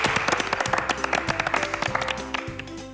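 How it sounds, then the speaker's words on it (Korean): A small group claps at a seventh-anniversary celebration, giving a brisk burst of close, sharp hand claps that thins out and fades after a couple of seconds. "박수 한번 치고 시작하시죠."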